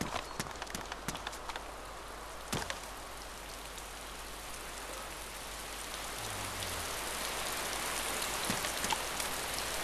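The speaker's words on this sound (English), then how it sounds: "Pissing with rain." Heavy rain pours steadily in the DayZ video game as a dense, even hiss, scattered with sharp close drip and tap sounds. It is heard on its own, with no voices.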